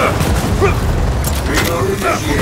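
Heavy gunfire and booming blasts fill a Gears of War 4 firefight with a sniper firing from high ground, a dense, continuous barrage with faint voices underneath.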